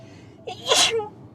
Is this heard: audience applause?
no